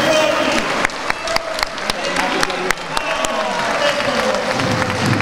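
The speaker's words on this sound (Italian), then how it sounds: "Grandi applausi per il numero 33 di casa, Pippo Fazioli" A home crowd at an Italian Serie B basketball game applauds a departing player, dense clapping and cheering with sharp hand claps near and far, while a commentator talks over the noise.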